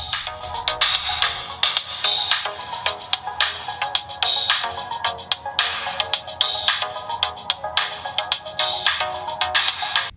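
A DT No.1 DT8 Ultra smartwatch's built-in speaker plays a bright, ringtone-like melody in a steady repeating rhythm, fairly loud and clear, with no voices.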